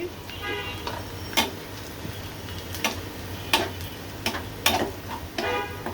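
Onions frying golden in a pan while being stirred, a soft steady sizzle broken by several sharp scraping clicks of the spoon against the pan, close by.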